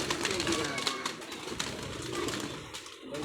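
Pigeons coo softly in repeated low throaty calls, with voices talking nearby over the birds.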